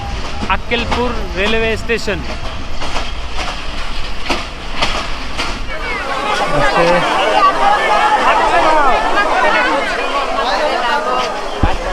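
The Titumir Express runs between Rajshahi and Joypurhat with a steady rumble and rattle of the carriages, while passengers talk loudly nearby over the running noise.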